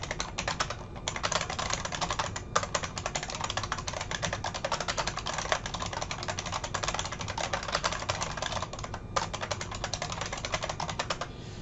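C source code is typed on a computer keyboard in a continuous, even stream of close, crisp key clicks with occasional louder taps and no pauses.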